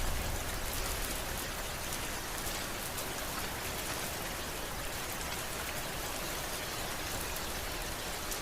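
Steady rain falls in a dense, continuous hiss of drops pattering on surfaces, loud and even throughout with no voices.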